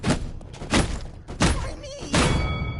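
Androxus punching in the Paladins video game, three heavy thudding impacts in quick succession with short whooshing bursts between them, close and punchy.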